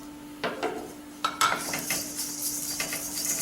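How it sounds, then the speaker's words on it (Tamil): Whole spices such as coriander and cumin with chilli dry-roasting in a kadai pan for a restaurant-style kadai paneer, with scattered metal scrapes and clinks of a spoon stirring, faint and close, no voices. "இது எல்லாத்தையும் ரோஸ்ட் பண்ணிக்கலாம்."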